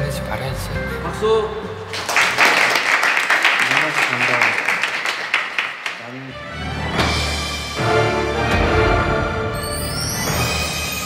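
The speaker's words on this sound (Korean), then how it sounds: "박수!" Applause from a studio audience in the SHINee Over Flowers variety show, a burst of clapping that swells and fades amid lively speech and laughter.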